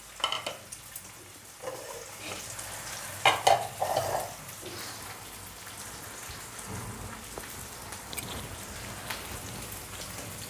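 Chopped onions fry in a pan with a soft, constant sizzle, broken by a few louder scraping bursts as they are stirred, close and fairly quiet.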